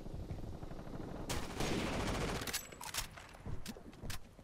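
Gunfire in the video game Rainbow Six Vegas 2, including an SPW light machine gun: a dense burst of rapid shots followed by several separate sharp cracks, fairly quiet in the mix, with no talk.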